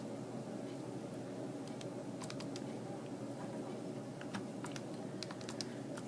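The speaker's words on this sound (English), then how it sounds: "I can grab my calculator and start typing that stuff in" Quick, light taps on a calculator's keypad, soft and irregular, with scattered sharper clicks over a quiet room hum and no talking.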